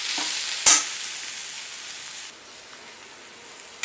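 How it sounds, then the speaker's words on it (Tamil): Chopped vegetables sauté in a pan for vegetable chapathi, a steady close sizzle with a sharp scrape or two of stirring near the start. "ஓரளவு வதங்கிருச்சு."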